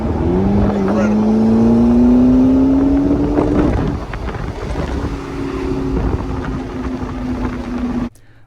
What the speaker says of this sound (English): we're driving the McLaren MP4-12c